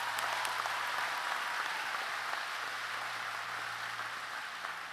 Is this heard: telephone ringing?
no